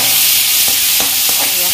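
Chopped onion, garlic and ginger crackle in hot oil with a loud, dense sizzle, punctuated by a few quick scrapes of a stirring spoon over a short moment.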